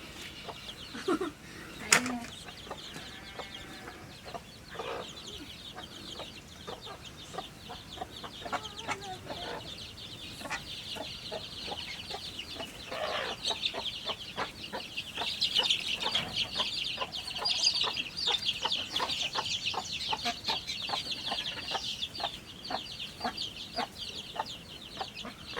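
Chicks and ducklings chirp in a rapid, overlapping stream of high peeps close by, with a few sharper calls and soft rustling, growing busier toward the end.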